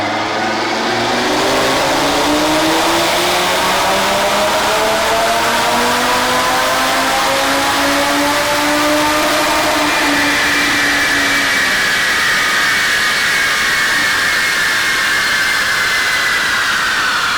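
An Audi RS3 with a Unitronic Stage 2 tune on 93 octane roars on a dyno, its engine note climbing steadily through a long, loud, sustained pull.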